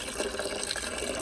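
Black coolant pouring in a steady stream out of a disconnected heater core hose near a car's thermostat housing, a continuous close splashing gush with no pauses.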